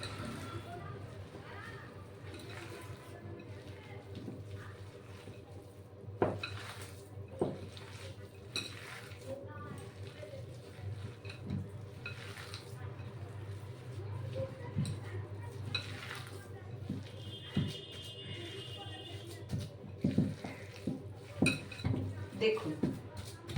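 Flattened rice cutlet mixture being mixed by hand in a bowl, soft irregular squishing with sharp clinks and taps of the bowl scattered throughout, under a steady background hum and a voice talking.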